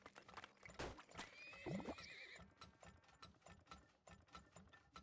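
Horse neighing and clip-clopping hooves in the video game Turmoil, a loud whinny rising over a steady, even trot of hoofbeats, with faint mechanical ratcheting in the background.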